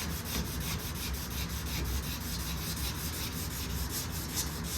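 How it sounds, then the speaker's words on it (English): Steady rhythmic rasping strokes of a sanding block rubbing back and forth across a car's clear coat, close and even-paced with no talking. "I'm going to let the sanding block do the job for me here."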